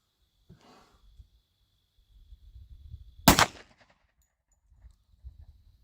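A single sharp, loud gunshot from a Tisas 10mm pistol at a shooting range, followed by brief mechanical rustling and handling noise.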